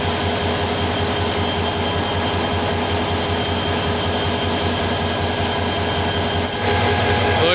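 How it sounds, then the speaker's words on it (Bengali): Nasirabad Express train pulling into Kishoreganj railway station, a steady loud rumble of wheels and carriages rolling on the rails throughout, without speech. "নাসিরাবাদ এক্সপ্রেস ট্রেনটি কিশোরগঞ্জ রেল স্টেশনে প্রবেশ করল।"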